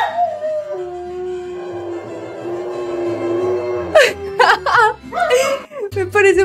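A dog howls to Mexican music, a long, wavering howl that slides downward, then breaks into higher yelping wails, loud and close over the faint music.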